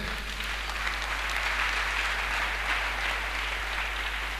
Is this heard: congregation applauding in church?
yes